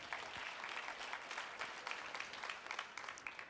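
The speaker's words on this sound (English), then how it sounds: "a round of applause to all of them" An audience at a gastronomy tourism forum in Thailand gives a steady round of applause, dense and sustained clapping throughout with no one speaking.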